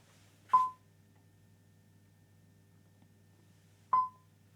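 Voltage-controlled oscillator fed through an inverter and function generator gives two short, high-pitched electronic beeps separated by a long silent gap, fairly quiet over a faint low hum.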